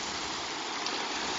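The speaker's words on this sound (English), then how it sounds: "See, the water comes down the big flume" Water rushes down the big wooden flume of an old turbine-style gristmill, a steady, loud, broadband roar with no pauses or voices.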